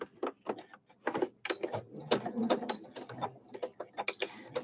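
A sewing machine stitches fabric close by in a rapid, uneven run of mechanical whirs and clatters that stops and starts briefly, with no voices.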